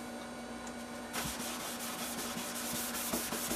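A guitar body finish is buffed on powered wheels, a continuous abrasive rubbing hiss with a steady motor hum beneath and small irregular ticks, close and alone.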